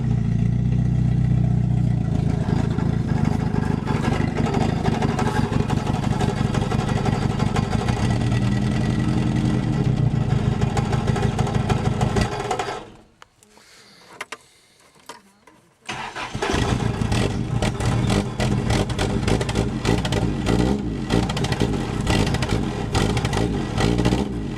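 A cold Toyota Corona ST141 engine cranks and fires, then runs loud and spluttering near full throttle, cuts out briefly to near silence for a few seconds, and roars back to rough, sustained revving.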